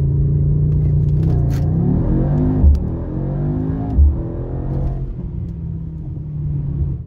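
A Mercedes-AMG GT63s E Performance, an 843-horsepower hybrid, accelerates hard from standstill, its engine drone climbing steadily with brief dips at gear changes, loud and continuous throughout.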